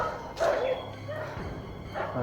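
Dogs bark and yip at a rural lookout area near a camp, a few short barks at moderate distance over steady background noise, with faint voices nearby.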